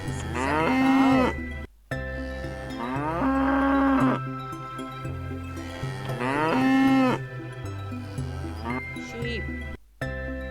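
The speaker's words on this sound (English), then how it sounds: "This is a cow." A farm cow gives three long, drawn-out moos, each swelling and fading, over a steady background of light music with brief gaps between calls.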